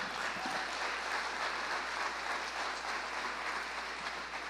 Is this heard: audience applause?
yes